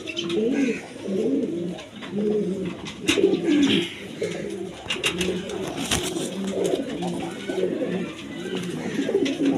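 Pigeons offered for sale, including large-sized pairs and imported beauty breeds, coo repeatedly in a steady throaty rhythm close by, with a few wing flaps and faint background noise.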